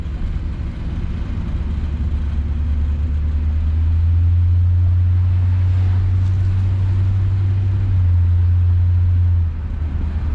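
A 1966 Ford Galaxie 500 convertible drives along with a steady low engine rumble that swells louder midway, then eases back near the end.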